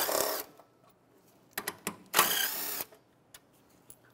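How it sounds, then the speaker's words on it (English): A ratchet with a 10 mm socket loosens bolts on a 2011–2016 Hyundai Elantra, bursts of rapid clicking close up, separated by brief pauses. "with a 10 millimeter socket, we'll take out these two bolts"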